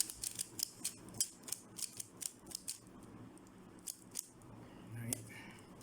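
Quick plastic clicks and clacks come in rapid bursts as a Rubik's cube is twisted, close and crisp, with brief pauses between turns.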